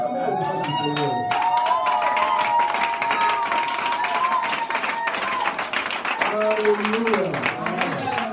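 A church congregation applauding and cheering during a worship service, steady dense clapping and crowd noise running throughout while a voice speaks and sings over it.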